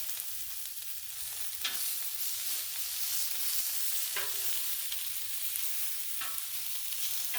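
Tri tip steak sears on a Blackstone griddle with a steady broadband sizzle and frying hiss, punctuated by a few sharper spatters, close and continuous with no talking.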